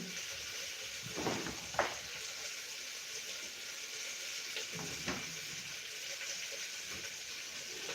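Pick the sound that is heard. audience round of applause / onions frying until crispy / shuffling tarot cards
onions frying until crispy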